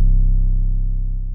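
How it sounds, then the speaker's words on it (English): A single sustained Spinz 808 bass note with the out knob slightly raised booms deep and loud, holding steady and slowly fading over about a second with no voices. "The only modification with the Spins 808 is that you just tweak the out knob a little bit before it sounds like this."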